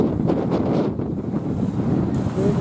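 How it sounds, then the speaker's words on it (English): Strong wind on the Homer Spit, Alaska, buffets the microphone with a continuous low roar and gusty rumbling, steady throughout. "It's windy."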